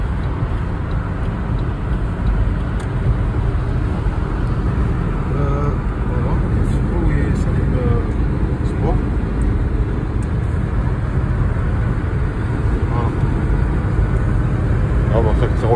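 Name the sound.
car engine running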